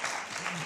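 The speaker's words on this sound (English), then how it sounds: "You can applaud again if you want." Brief snippet of audience applause at a leadership summit, a steady wash of clapping with a voice faintly underneath.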